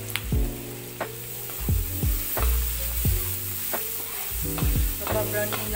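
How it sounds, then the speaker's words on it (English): Garlic sizzles steadily in a pan for a Filipino fresh spring roll filling, with a utensil stirring and scraping against the pan every second or so. The sizzle is close and continuous, and no voices are heard. "So pabrownin lang natin ng bahagyang-bahagya lang yung ating garlic."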